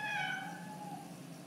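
House cat giving a single drawn-out meow close by, loud at first and tapering off over about a second, with nothing else audible.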